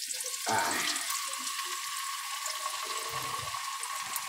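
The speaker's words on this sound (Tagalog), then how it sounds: "Gigisa ko na ngayon." Sardines sautéing in a pan give off a steady frying sizzle with a louder burst near the start as they hit the hot oil, heard close and alone with no talk.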